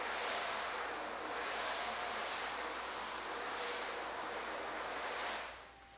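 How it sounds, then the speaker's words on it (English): A garden hose sprays water over a car during a spray-wax test, giving a steady, loud, close hiss that runs unbroken for several seconds and then tapers off near the end. "Sorry, I just turned this hose on"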